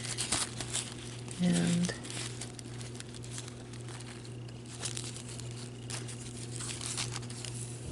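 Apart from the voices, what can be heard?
handling an old bias tape package, crinkling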